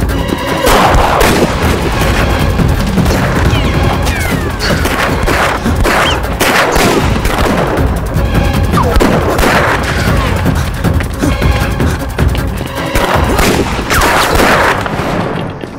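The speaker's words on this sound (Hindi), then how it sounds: "गोली चलाओ।" Rapid bursts of gunfire in a Hindi-dubbed movie crackle and boom continuously, dense and loud, like a heavy firefight with overlapping shots.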